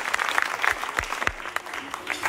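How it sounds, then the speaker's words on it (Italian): Applause from a musical theatre audience, moderately loud and continuous, with a few sharp isolated claps standing out against the steady patter. "Un grande applauso"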